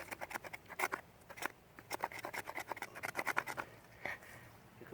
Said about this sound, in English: the top of the knife, the spine it's called. And you want to kind of get the shavings off that way.